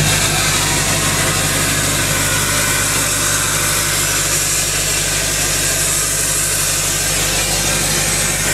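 A Duramax diesel swapped into a Humvee idles steadily and loudly, a constant low rumble with a throbbing mechanical pulse that carries on unbroken with no talking.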